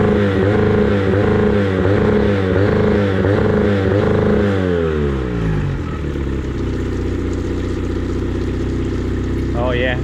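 Restored outboard boat engine running close up, starting with a rough rhythmic pulsing that winds down partway through and settles into a smoother, steady idle, with no talking.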